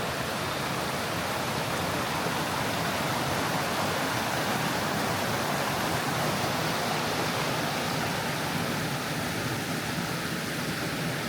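A creek flows beneath a bridge on the Pipeline Trail in Boquete, Panama, producing a steady, even rush of moving water heard close by and without interruption.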